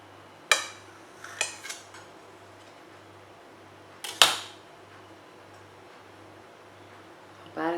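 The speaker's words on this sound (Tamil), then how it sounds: "கேக் கட் பண்ண போகிறேன்." A knife cuts through a soft, eggless Oreo biscuit cake made without an oven, giving a few sharp clinks and taps against the plate, spaced apart over a low steady hum in an otherwise quiet room.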